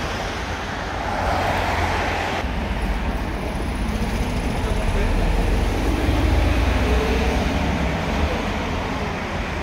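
A Zurich bus pulls out of the main bus station in Prague, its engine a steady low rumble with broadband road noise that swells slightly as it moves off, heard close and continuous without talk.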